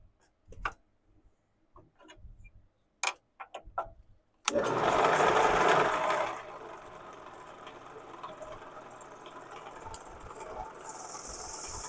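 Power sander running against a wood burl spinning on a woodturning lathe, a loud broadband whir starting abruptly after a few sharp knocks, then easing to a steadier, quieter hum that carries on to the end.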